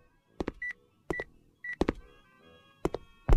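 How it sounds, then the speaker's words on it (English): Electronic beeps from the video game Who's Your Daddy, sounding in short repeated bursts of paired clicks and a steady tone, spaced about half a second to a second apart, with no talking. "I hear beeping."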